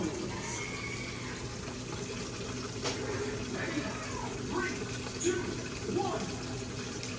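Water streams steadily in a sideshow attraction, a soft continuous splashing flow heard at moderate distance under a narrator's voice.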